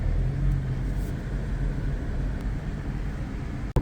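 Car cruising down a small main street, a steady low engine and road rumble heard from inside, continuous and even, with no talk.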